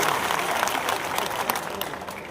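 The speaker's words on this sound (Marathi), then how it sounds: "आपण जोरदार टाळ्या वाजवून त्यांचं स्वागत करावं." A crowd at a public rally claps steadily to welcome MLA Sangram Jagtap, a dense, continuous wash of applause throughout.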